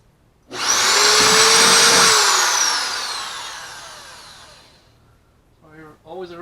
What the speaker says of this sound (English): you're always a risk when you're drilling holes in a kayak